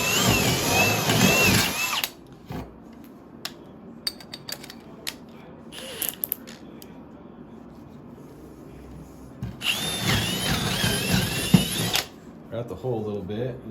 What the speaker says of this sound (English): And I like to route the hole a little bit.